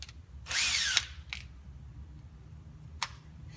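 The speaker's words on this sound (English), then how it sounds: "I have my handy dandy step drill again that I used before." A step drill enlarges pilot holes in sheet metal for an airplane build, one loud whining bite of about half a second, then two short clicks or brief tool bursts, close up and alone.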